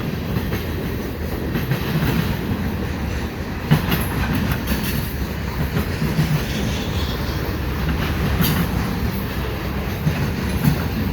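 A westbound CN freight train with double-stack and mixed cars rolls past at Fenelon Street in Dorval, a loud continuous rumble with clickety-clack wheel beats and faint squeals throughout.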